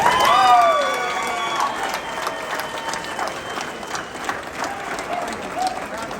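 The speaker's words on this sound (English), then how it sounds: "Huge round of applause for Flash." A crowd gives sustained, steady applause with scattered cheers for a member of the 2023 United States Air Force Thunderbirds team, the clapping holding at an even level throughout.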